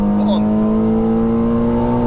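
Revo Stage 2 Plus tuned Volkswagen Scirocco R, 360 bhp, revving hard under acceleration from inside the car: a loud, steady engine drone whose pitch climbs slowly across a short burst.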